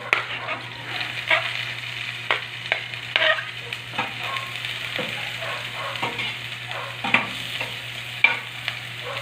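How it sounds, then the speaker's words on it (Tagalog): Ginger and then garlic sauté in a pan for Filipino pinatolahang manok, a steady low sizzle broken by repeated scraping and stirring of a utensil, close and continuous. "Lagyan natin ang ating bawang"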